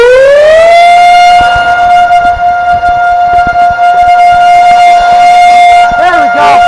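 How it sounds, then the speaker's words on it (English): A Fedelcode Model 5 siren sounds during an outdoor test. It winds up quickly into a loud, steady, piercing wail and holds it, with a few voices talking faintly underneath. "Here's the siren."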